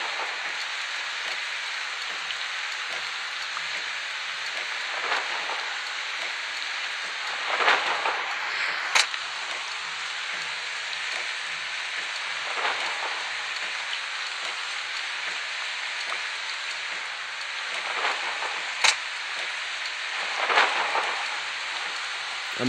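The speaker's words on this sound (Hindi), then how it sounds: "बहुत ज़्यादा बारिश हो रही है फ्रेंड्स आज।" Heavy rain pours down steadily in a jungle thunderstorm for a long stretch, a dense hiss with a few sharper spatters and crackles.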